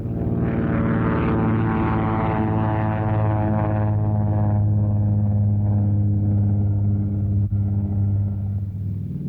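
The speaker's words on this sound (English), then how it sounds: "Once a pilot was given a come ahead, he didn't waste any time getting himself and his plane back onto the flight deck." A propeller aircraft drones loudly and steadily as it lands back on an aircraft carrier flight deck, a constant low rumbling engine roar that fades slightly toward the end, no talk.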